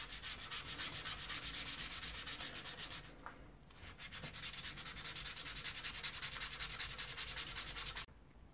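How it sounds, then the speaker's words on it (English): Hazel wood being sanded by hand on the wings of a turned bird's-mouth jewelry box, a steady, soft, rhythmic rubbing scratch that briefly pauses, then resumes and stops abruptly near the end. "Obviously I need to sand up wings by hand"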